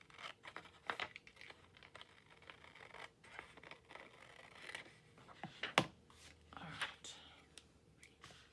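Paper is cut and handled for crafting, with soft, scattered snips, crinkles and rustles close by. The sounds are quiet and uneven, and low speech drifts in now and then.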